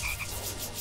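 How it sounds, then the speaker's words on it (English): A chorus of frogs croaking in a video game, a short burst of raspy, rattling croaks layered together, fairly loud and unaccompanied by speech. "Here we have a ton of frogs."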